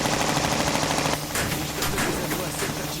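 Loud sustained automatic gunfire from an aircraft attacking a target in Repella Fella, a dense rapid rattle that cuts briefly and resumes as a continuing barrage, heard close, with no talking.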